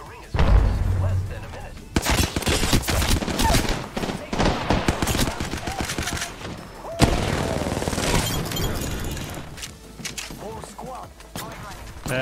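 Gunfire in the Apex Legends video game: loud bursts of rapid shots and sharp single cracks in clustered volleys, with short pauses between, close and dominant throughout with talk underneath.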